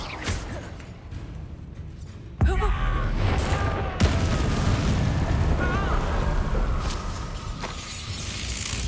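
A Bombarda spell explosion in Hogwarts Legacy, a loud booming burst after a quieter opening, followed by a second blast and continuing rumbling combat noise, with no talk.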